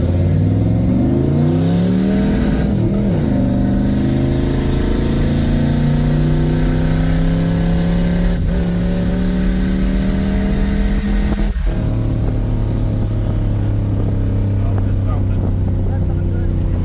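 A boosted 400-cubic-inch Pontiac LeMans on pump gas pulls away from a green light, its engine note climbing in loud harmonic sweeps through gear changes before settling into a steady drone, close and continuous.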